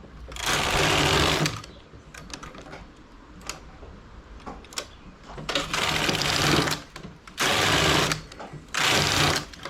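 A knitting machine works a 2x2 rib buttonhole, with the carriage sweeping across in several loud rasping passes between stretches of clicking and ticking, heard close up.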